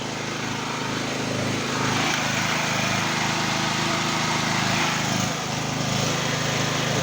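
A Stanley SG 3100 portable generator's engine runs steadily and loud up close, a constant mechanical drone with a slight rise in revs partway through, no talking over it.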